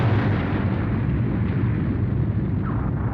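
A huge explosion in the anime Neon Genesis Evangelion, a dense, loud, sustained rumbling roar with deep low-end weight filling the whole stretch.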